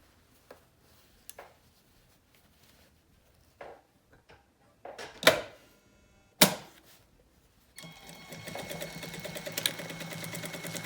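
A sewing machine runs in a steady, continuous stitching burst as it sews back and forth over elastic on non-stretch fabric, coming after several isolated clicks and short handling knocks in an otherwise quiet room.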